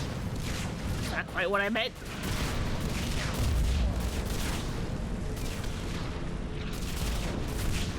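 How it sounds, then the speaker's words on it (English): Explosions and gunfire boom through a Mass Effect 3 battle, dense rumbling blasts layered continuously under a man's speech, with an electronic warbling effect briefly rising early on. "Oh, everything's exploding!"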